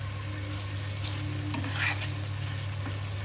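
Fried potatoes are stirred into a Bengali fish curry made with soft bhetki fish and no water, giving a faint steady sizzle in the pan with a couple of light scraping stirs and no voices.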